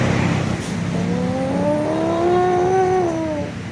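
A man vocally imitates a 1000 cc motorcycle revving, a rising and falling engine-like drone held for a few seconds over steady background noise.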